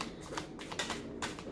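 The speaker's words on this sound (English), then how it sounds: "This is just going to be a pre-shuffle." A deck of tarot-style cards being pre-shuffled for a love reading makes a quick run of soft, close riffling and flicking bursts that repeat several times in a short stretch.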